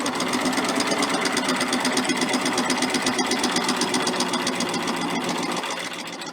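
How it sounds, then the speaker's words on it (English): A sewing machine stitches quilt binding with a double fold bias binder, a steady, fast, even rattling hum running for several seconds before easing slightly at the end. "I'm going to stitch off so I have some binding"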